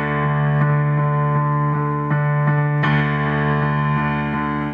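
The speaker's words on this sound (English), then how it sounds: "You're gonna be playing D octaves" Steady low piano octaves on D from the left hand pulse in a bouncing, evenly repeated rhythm, loud and close with sustained ringing tones and no voice over them.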